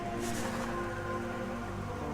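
Steady rain patters in Metroid Prime, a soft continuous hiss of falling drops beneath quiet musical tones, even and unbroken throughout.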